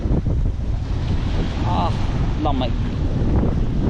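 Strong wind buffets the microphone at the seaside, roaring steadily with surf-like noise while a person speaks briefly over it.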